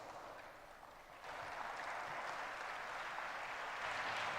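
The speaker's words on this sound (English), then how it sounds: "Huge round of applause for Ms. Mukta Chaitanya, ma'am." An audience applauds at a live leadership development program event, a sustained wash of clapping that swells slightly after the first second and carries on steadily, fairly faint and distant.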